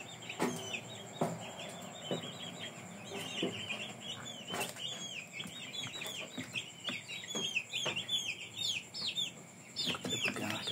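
Indio Gigante chickens in a pen clucking and squawking in rapid, agitated bursts while a hen is caught, with occasional wing flaps and scuffles, a busy flock heard at close to moderate range.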